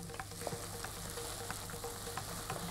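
Curry leaves, tomato and onion sauté in a pan with a dense, continuous sizzle and crackle, punctuated by occasional clinks of a spoon stirring, close and steady throughout.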